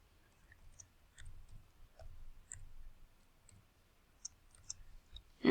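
A computer keyboard is tapped in a short run of soft, scattered clicks while a solution point is typed in, sounding quiet and close with gaps between keystrokes.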